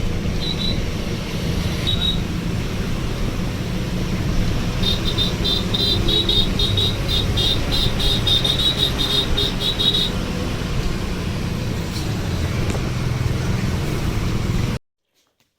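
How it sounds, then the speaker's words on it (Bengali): A bus crossing the Second Hooghly Bridge over the Ganges at night produces a steady, loud engine and road rumble throughout, with a faint high repeated chirp midway, no voices. "গঙ্গার উপর দিয়ে যাচ্ছে বাসটা এখন।"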